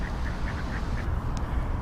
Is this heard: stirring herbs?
no